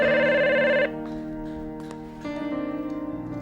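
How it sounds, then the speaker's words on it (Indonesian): Telephone ringing with a bright electronic tone in repeated bursts, clear and fairly close, over a quiet room. "Aduh, pakai ada telepon lagi."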